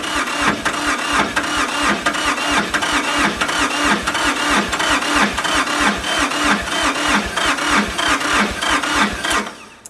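A tractor's starter motor cranks the engine continuously for nearly ten seconds in a fast, even, loud churning rhythm that cuts off abruptly at the end, with no one speaking.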